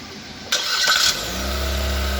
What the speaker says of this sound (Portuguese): Liga o carro, Rafael.